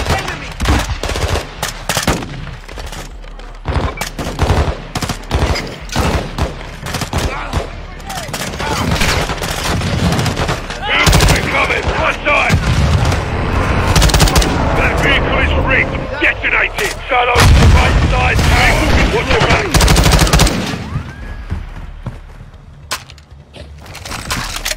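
Sustained automatic gunfire lays down cover in a Call of Duty campaign battle, a loud, dense, continuous clatter of rapid shots with heavier blasts mixed in, and voices come through under the din.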